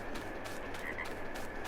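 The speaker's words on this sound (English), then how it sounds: "Oh, there's my frog sounds." Frogs croak in the Farming Simulator 22 game on the Calmsden Farm map, a steady low chorus of calls that runs through the whole stretch, fairly quiet and with no talking.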